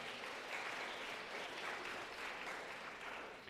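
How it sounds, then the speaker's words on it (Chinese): A church congregation applauds in welcome during a Sunday service, a steady wash of many hands clapping at moderate distance, sustained and fading slightly at the end, with no talk over it. "拍手，再一次拍手欢迎哈"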